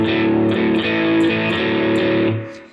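Distorted electric guitar chugs a steady blues shuffle in E, loud and driving with a repeating chord pattern, then fades out at the end.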